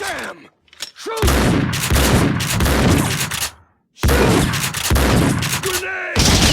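In the video game Max Payne 2, bursts of dense, rapid gunfire fill two long stretches, loud and close, with short gaps between them and a voice shouting briefly.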